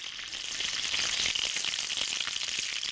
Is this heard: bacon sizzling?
yes